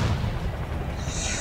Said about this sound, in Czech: Nevím, někdo mi tam poslal raketu.